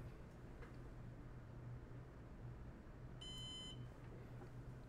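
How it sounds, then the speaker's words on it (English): A single short electronic beep from a Synology NAS during a soft reset sounds once over a steady low hum of machine noise. "there is our beep"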